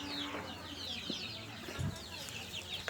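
Young chicks about one month old at a poultry farm in Baramati, a flock peeping and clucking in overlapping high calls at moderate distance, with a few faint voices murmuring in the background.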